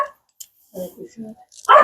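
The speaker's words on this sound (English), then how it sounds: "The dog's gonna bark though." A dog gives a few short barks and yips at moderate distance, interleaved with nearby speech that ends in a louder voice.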